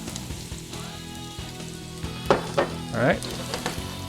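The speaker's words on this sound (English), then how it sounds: "Now I have heated up 2 tablespoons of avocado oil and also chopped up our 4 cloves of garlic into slivers. So we'll just add the garlic into the oil first." Garlic slivers sizzle in two tablespoons of hot avocado oil, a steady crackling fry with a few louder spitting bursts and stirring scrapes near the middle and end, under a brief spoken word.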